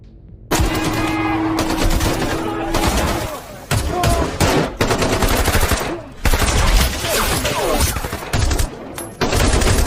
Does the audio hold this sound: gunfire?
yes